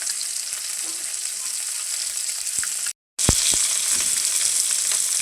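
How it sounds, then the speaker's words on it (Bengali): Fish sizzling as it fries in a pan, a steady loud crackle running throughout, broken once by a brief silent gap, with a few small clinks as it is turned. "মাছটা আমি এখন লাল করে বাইজে নিই।"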